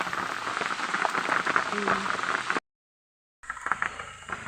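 Steady rain pours down outdoors on a rainy day during a trip, a dense, loud hiss that cuts out briefly and then resumes.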